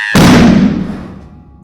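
A hydrogen and oxygen mixture ignited, giving a single sudden loud explosive bang that booms and rumbles, then fades out over about a second and a half.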